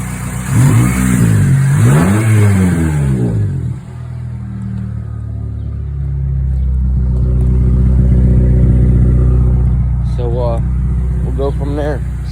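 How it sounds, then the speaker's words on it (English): A Honda Accord engine revs up repeatedly with rising and falling whines, then holds a steady loud drone; someone talks over it near the start and end. "And then we'll rev her up, see if we can get it to blow it out."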